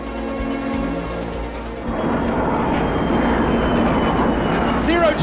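Aircraft engine roar swelling as the plane accelerates toward about 1.8 G during a parabolic zero-gravity flight, a loud steady broadband rumble that rises midway and holds, with voices faintly present.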